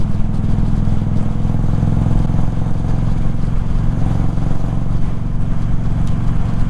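Motorcycle exhaust on a bike ridden without a windshield, a loud steady rumbling drone heard close up while cruising, with wind noise mixed in.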